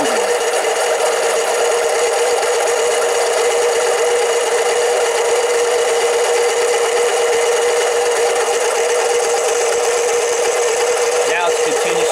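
A Harbor Freight 7x10 mini lathe takes light, intermittent cuts on a 304 stainless steel bolt, making a loud, steady motor whine with a constant gritty rattle running the whole time.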